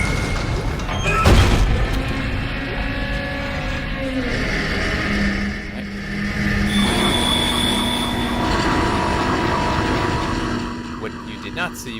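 A tram in the sci-fi horror game Dead Space rolls in on its rails with a loud rumbling roar, metallic squeals and clanks building over about twelve seconds, with a sharp thud early on.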